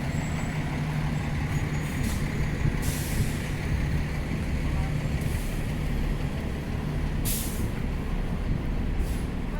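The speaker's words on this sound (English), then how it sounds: "I'm beginning my walk at Scotia Square bus terminal" Bus air brakes hiss in short bursts against a constant loud roar of idling engines and traffic at the Scotia Square bus terminal in Halifax, with no talking.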